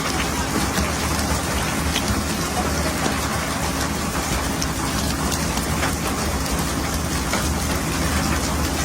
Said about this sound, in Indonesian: Membuat hujan buatan di depan anjungan tepat di bawah pemancing agar ikan tak melihat mereka.